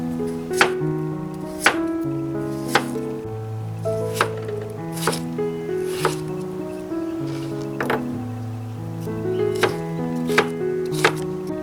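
A knife dices a potato on a cutting board in about a dozen crisp, evenly spaced chops, close and clear over a steady background tone.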